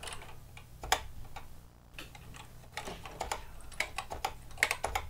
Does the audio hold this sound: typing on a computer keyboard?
yes